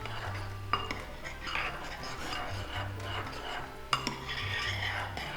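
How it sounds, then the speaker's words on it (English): A spoon stirs ginger powder into a paste in a bowl for vegan Easter eggs. Quiet, steady scraping runs throughout, broken by a couple of sharper clinks against the bowl. "So just stir that in so it'll colour and flavour the paste that we've got."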